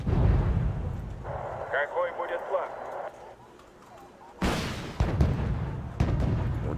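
Nanushka warships firing in Wargame: Red Dragon naval combat, with heavy launch blasts returning after a quieter stretch, mixed with game voice chatter.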